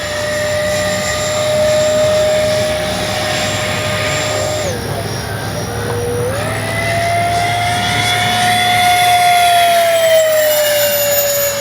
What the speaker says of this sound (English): What a great flying jet.